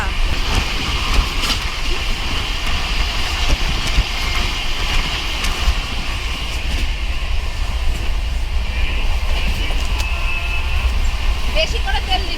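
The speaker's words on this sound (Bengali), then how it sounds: "আর বাইরে চলছে এইরকম দুরন্ত গতিতে ট্রেন" The Lal Kuan–Howrah superfast express rushes along at speed with a steady, loud, continuous rumble and roar of wheels and carriages, and a voice talks over it.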